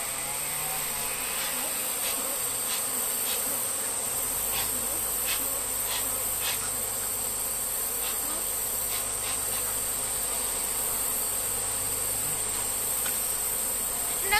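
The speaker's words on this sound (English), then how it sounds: "They're calling the rest of the bees back home." Honeybees hum in a dense, continuous drone during a hive transfer, with a steady high whine and faint occasional clicks.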